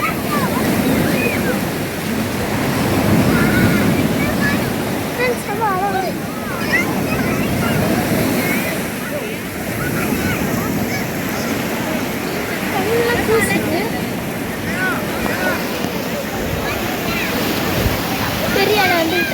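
Big ocean waves crash and surge continuously on a shore, a dense roaring wash of surf with wind buffeting the microphone, while people talk and call out over it.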